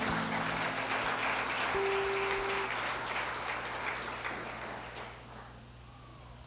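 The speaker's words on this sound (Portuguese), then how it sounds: "Aplauda o Senhor se você puder." A congregation applauds during a Sunday church service, a sustained blanket of clapping with a steady low hum beneath it, gradually thinning and fading over several seconds.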